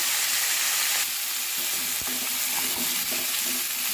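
Vegetables fry with turmeric and salt for khichuri, giving a steady loud sizzle with scattered crackles and a few soft stirring knocks; no one talks.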